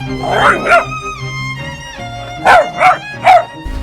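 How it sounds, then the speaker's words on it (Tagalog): Young puppies about two months old bark and yip in two short bursts, a pair of sharp yaps followed by a quick run of three, fairly close and loud. "Kapansin-pansin din ang pagtahol ng ibang tuta."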